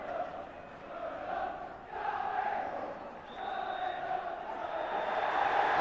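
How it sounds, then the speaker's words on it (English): Football crowd at a 1983 Division 2 match between Wolves and Crystal Palace, rising in a sustained roar of cries and cheering near the final whistle, loud and continuous with swelling peaks. "Going up is the cry of the crowd"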